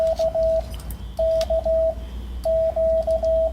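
A call sign is keyed in Morse code over amateur radio as a clear, steady tone in short and long beeps, sent in three quick groups with short gaps between them.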